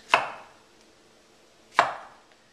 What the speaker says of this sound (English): And then I'm just going to cut a few slices.